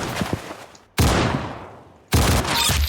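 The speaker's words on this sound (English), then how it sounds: "Very good shooting." Three sharp, loud pistol gunshots fired on a beach, each with a long echoing decay. The shots are spaced about a second apart and heard close with no talk.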